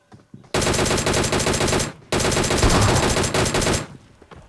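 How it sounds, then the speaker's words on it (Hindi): Automatic gunfire rattles through a firefight in the battle royale game PUBG Mobile, coming as two loud, close, rapid bursts about a second and a half long each, split by a short gap, with no talking. "और यहाँ पे आगे जाकर देखना एक शॉटगन चलेगी।"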